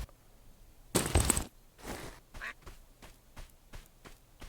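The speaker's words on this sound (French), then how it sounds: "J'ai entendu un canard." In the video game Escape from Duckov, a duck quacks with a sharp, fairly loud burst, followed by quieter rapid clicking sounds.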